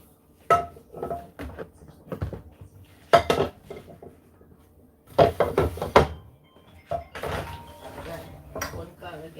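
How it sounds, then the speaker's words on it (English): Dishes, pots and cutlery clattering while being washed by hand with gloves on, irregular clinks and knocks coming in bursts over several seconds, with a person talking in between. "I am using the gloves to wash these dishes."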